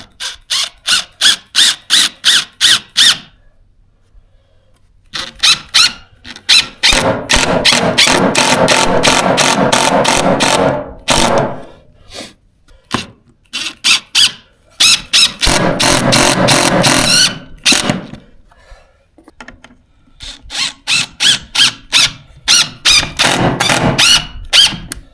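Bursts of a power drill driving screws, short rapid pulses alternating with longer whirring runs, loud and close, separated by brief pauses.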